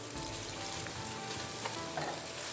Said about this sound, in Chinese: 锅中加少许的油，油热后倒入鸡蛋液，把鸡蛋炒至凝固